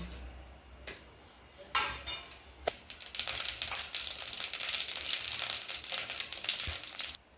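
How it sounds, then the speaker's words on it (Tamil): Mustard seeds hit hot oil for Tamil tamarind rasam, starting with a few scattered clicks, then bursting into a dense, crackling splutter of rapid pops that runs steadily before stopping abruptly. "ஆயில் காஞ்சதும் கடுகு போட்டுக்கலாம்"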